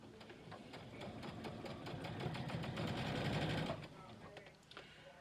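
A sewing machine runs steadily, stitching a curved seam on a pouch, with rapid needle rhythm that swells and then eases near the end while a voice talks over it.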